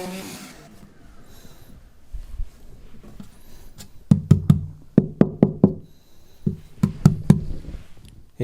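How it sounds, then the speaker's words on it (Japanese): Dry, hollow knocks tapped on the top plate of an acoustic guitar being thinned, first faint then a quick series of sharp raps in small clusters, close up. "せっかくなんで現時点でのタップ音をちょっと、記録しておこうと思います。"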